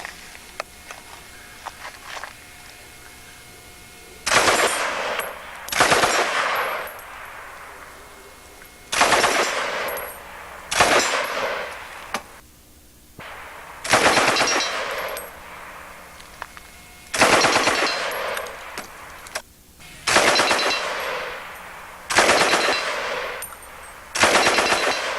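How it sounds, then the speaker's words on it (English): A .303 Bren gun firing World War II British tracer ammunition in short bursts, about ten loud, sharp volleys spaced a second or two apart, heard close with quiet gaps between. ".303 Bren gun. World War II ammunition, all tracers, made for aircraft machine guns in World War II."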